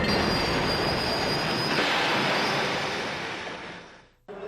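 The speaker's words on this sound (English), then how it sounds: "Trains are fast and can't stop quickly." A train rushes past with a loud, steady roar and high wheel squeal during a played railroad safety announcement, then cuts off abruptly.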